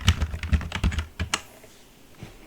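Keys on a computer keyboard are typed in a quick burst of crisp clicks, then a pause and one last tap, close and alone.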